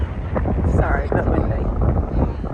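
Strong wind buffets a microphone outdoors in the Sahara near camels: heavy, uneven low rumbling gusts that fill the whole stretch, with a faint hint of voice underneath.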